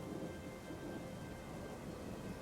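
A video game thunderstorm with steady rain and a low thunder rumble, a continuous dense wash of noise at moderate level with no voices.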